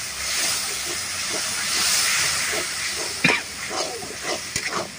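Spice masala with tomato and a little water cooking in a pan for a tuna fish curry, a loud continuous steamy hiss with a few brief clinks of a utensil near the end.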